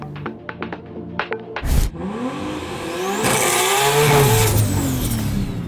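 A few sharp clicks, then a Nissan Skyline R34 GT-R engine with a sequential gearbox roars up on a drag strip, revving toward 7,000 rpm in a sustained, rising whine, close by.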